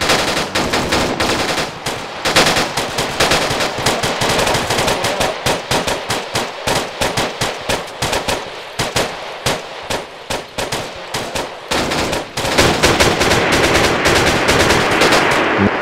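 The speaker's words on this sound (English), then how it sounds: "Taking fire, taking fire." Heavy automatic gunfire in a military co-op shooter game, dense rapid bursts of shots continuing almost without pause, loud and close throughout.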